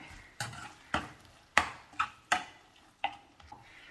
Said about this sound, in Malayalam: ഉപ്പ് ചേർത്ത് നന്നായിട്ട് മിക്സ് ചെയ്യാം